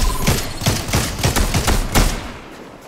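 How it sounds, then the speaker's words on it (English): Rapid bursts of gunfire from a Fortnite battle, a dense run of sharp shots in quick rhythm, loud and close, filling the whole stretch without any talk over it. "There's firing up ahead of us too."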